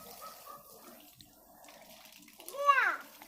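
Water is run from a tap pipe, a faint close trickle with a brief rising gush near the end, while a voice is heard.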